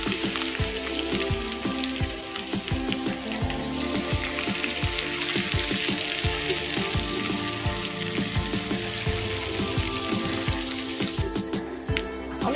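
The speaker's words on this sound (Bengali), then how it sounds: "এর মধ্যে দেব ঘষে রাখা পেঁয়াজ।" Grated, squeezed onion fries in oil tempered with spices for a chital fish muitha, a loud, dense crackling sizzle with rapid popping throughout.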